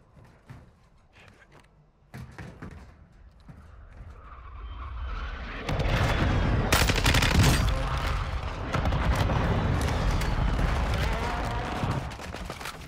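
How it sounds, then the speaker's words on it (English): Dense gunfire in a Call of Duty Warzone 2 Resurgence trios match on Ashika Island: sparse shots at first, then from about six seconds a loud, sustained barrage of overlapping rifle fire and impacts continues to the end. "Taking effective fire!"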